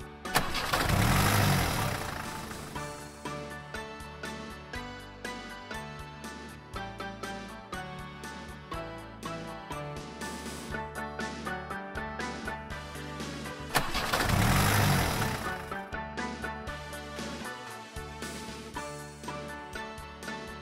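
Engine of a service transport vehicle, an emergency-type truck, starting with a loud low rumble that settles into a steady idle, then cranks up loudly again near the end, with no talk.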